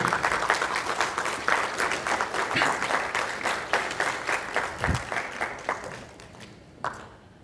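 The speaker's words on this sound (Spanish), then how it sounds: "Un fuerte aplauso para ella, por favor." An audience in a lecture hall applauds, steady clapping from many hands that gradually thins out and fades, ending with a few scattered claps.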